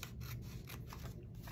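Scissors trim paper for a small belly band pocket embellishment on altered book pages, giving a few soft, close snips over a low steady hum.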